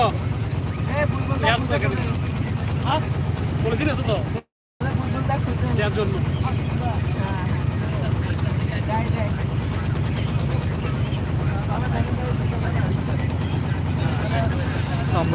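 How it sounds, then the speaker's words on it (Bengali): A trawler boat's engine drones on Kaptai Lake, a constant low rumble that briefly cuts out, with people talking over it throughout. "ট্রলারে করে আপনারা কাপ্তাই লেক দিয়ে যাচ্ছি রাঙ্গামাটির দিকে"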